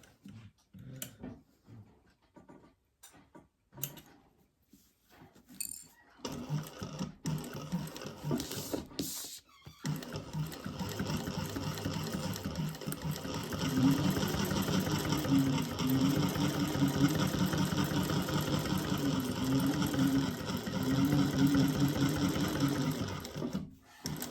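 A sewing machine bastes fabric pieces together, starting with short, halting bursts of stitching, then running in a steady, close mechanical whir that holds for a long stretch.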